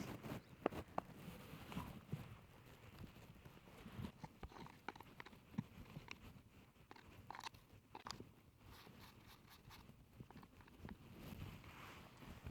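Hooves clop and shuffle on hard ground in irregular steps, fairly close, with faint background noise and no talking.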